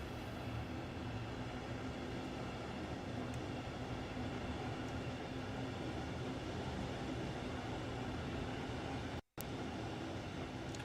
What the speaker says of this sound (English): the train is class 395 Javelin. This is a high speed train.